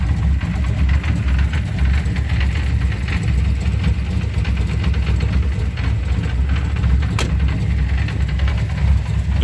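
A car engine with no muffler idles loudly and close by, giving a steady, rough, low rumble that holds for the whole stretch, with no voices.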